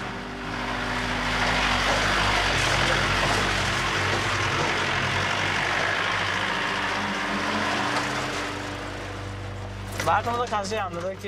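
A truck engine drones steadily on a mountain road in Nepal, a loud continuous rumble filling nearly the whole stretch, with a voice briefly heard near the end.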